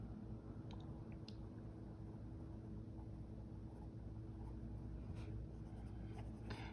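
Soft 4B graphite pencil shading on paper during a portrait drawing, a faint steady scratchy rasp held continuously under a low background hum.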